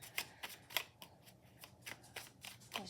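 Tarot cards being shuffled in a quiet room, a series of crisp riffling bursts repeating every fraction of a second, close and fairly soft with no talking.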